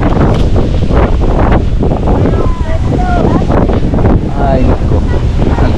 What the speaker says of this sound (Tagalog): Malakas yung dagat.